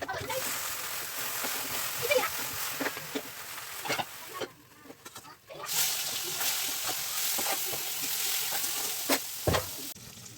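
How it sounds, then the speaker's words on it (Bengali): Okra fries in a home kitchen pan with a steady close sizzle and crackle, broken by occasional stirring clatter and brief sharp spatters, while someone talks over it at times. "একদিকে ভেন্ডি ভাজা বসিয়েছি"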